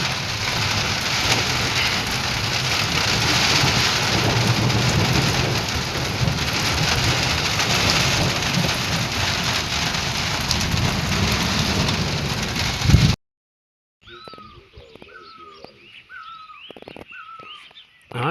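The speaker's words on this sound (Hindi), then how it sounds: "आप बारिश देखिए, कितना सुहावना मौसम होता हुआ। बारिश की बूंदें आपको दिख रही होंगी।" Heavy rain pours in a steady, loud hiss in a rural hill village for about thirteen seconds, then cuts off abruptly; faint dripping and bird calls follow in a quieter stretch.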